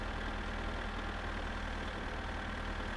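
Tractor engine idling in the driving game My Summer Car, a low steady rumble held at constant level throughout, fairly faint with no talk over it.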